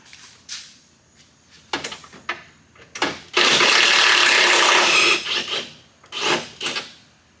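An impact gun with a 10 mm socket zips out a trunk bolt on a Ford Crown Victoria in one loud, sustained buzzing burst of about two seconds. Scattered clanks and handling knocks of tools and metal come before and after it.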